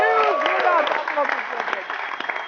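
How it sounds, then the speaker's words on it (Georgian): Studio audience applauding on a Georgian comedy anecdote show, steady clapping mixed with a bright musical jingle and voices over about two and a half seconds. "ასია თქვენი აპლოდისმენტები მას."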